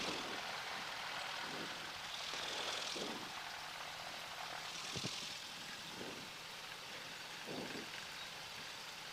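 A Cessna 172 Skyhawk taxiing, its propeller engine a constant droning hum heard from inside the cabin, with a few soft bumps and thumps along the way.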